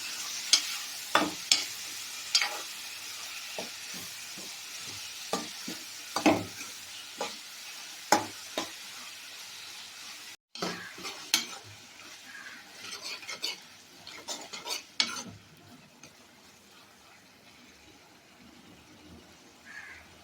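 Steady sizzling of tomatoes frying in a pan, with repeated scraping and clinking of a spoon stirring, close by and without talk.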